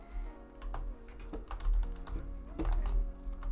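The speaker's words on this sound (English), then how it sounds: "Must be typing." Typing on a computer keyboard, with quick irregular clacks of keys pressed steadily and close, over a low hum.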